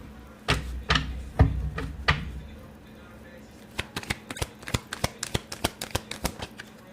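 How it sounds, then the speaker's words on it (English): Tarot cards are shuffled by hand: a few slower riffles, then a quick run of crisp snapping flicks close by. "Let me shuffle it again."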